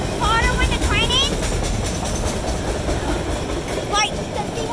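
Two-engine autorack freight train slowing on a curve, loud and close with continuous rolling rumble and high squealing wheel flange screeches, while people talk over it.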